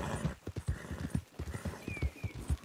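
Horse hooves gallop in the Western video game Red Dead Redemption 2, a quick, even rhythm of close, fairly soft thuds running through the whole short stretch.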